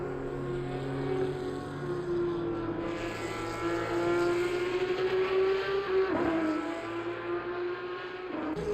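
A race car engine in a racing video game (Assetto Corsa Competizione, Nürburgring GP) screams at high revs, a steady harmonic whine that climbs and dips briefly with a gear shift, loud and continuous with no talking.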